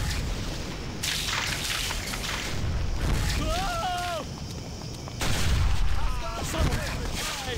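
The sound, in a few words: gunfire and explosions in the video game Stubbs the Zombie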